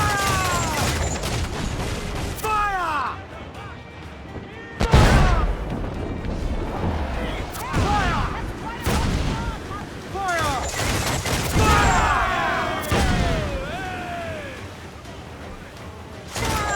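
Ship cannons boom in repeated heavy volleys during a naval battle in Assassin's Creed IV Black Flag, loud and close, mixed with crashing impacts while shouted orders and replies ring out between the shots.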